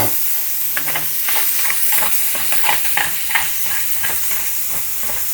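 Ground garlic fries in a pan with a continuous close sizzle, broken by repeated scraping stirs at an uneven rhythm, and no voices.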